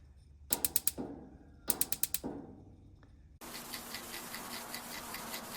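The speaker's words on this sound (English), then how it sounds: "I can hear the gases coming through." Two bursts of rapid mechanical clicking, then a sudden steady hiss of propane flowing through a Mr. Heater 30,000 BTU heater from a 20 lb tank, continuing to the end, close and fairly quiet.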